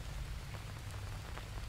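Rain in the jungle survival game Green Hell, a steady soft patter of drops on surfaces with a low rumble beneath, continuous and moderately quiet.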